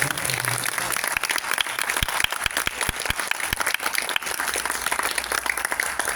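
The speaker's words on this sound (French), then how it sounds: "est-ce qu'on pourrait juste applaudir l'association" An audience at a public mediumship evening in Soumoulou applauds an association: dense, sustained clapping with a few sharper, nearer claps standing out, holding steady for about six seconds.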